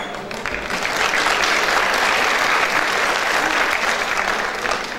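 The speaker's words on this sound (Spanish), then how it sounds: "un aplauso" Loud, dense applause from an audience at the ExpoCundinamarca 2018 event honouring women, rising quickly and holding steady as a sustained roar of clapping.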